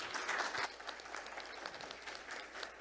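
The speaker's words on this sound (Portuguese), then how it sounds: "Uma salva de palmas." Brief applause from an audience at a supply-chain panel discussion, a fairly even crowd clapping for under three seconds.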